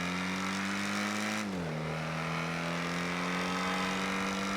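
A car in GTA V on the NoPixel roleplay server drives at a steady engine drone, with a brief pitch drop as it shifts or slows, then holds an even hum; no one speaks.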